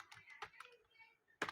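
A few quick, uneven keystrokes tap on a computer keyboard while a captcha is entered, quiet and close, ending in a sharper clack.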